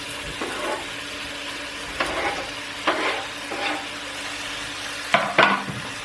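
Garlic and onion sizzle in a pan as a base for Andalusian cuttlefish stew, with a steady hiss under several short bursts of stirring and scraping.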